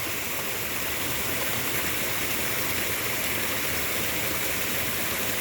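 Floodwater pours across a road on the far side during heavy rains, a steady, loud broadband rush like a stream or small waterfall, continuous and close, with no talking.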